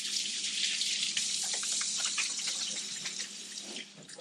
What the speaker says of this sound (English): I'm going to wash my hands, and then we're going to do the last step.